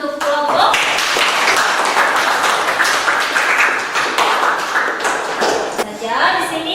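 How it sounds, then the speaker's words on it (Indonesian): A biology class claps for a student group after its presentation, brisk close clapping running steadily for several seconds, with faint voices mixed in near the end. "Tepuk tangan untuk kelompok."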